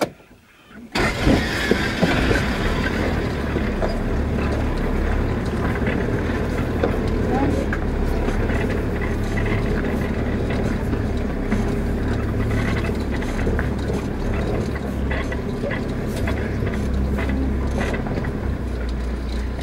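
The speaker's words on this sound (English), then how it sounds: "Hit the ignition, reverse back down the hill." A 4WD's engine cranks and catches after a brief silence, then idles and rumbles steadily at close range as the vehicle reverses down a steep hill, with mechanical clunks and rattles throughout.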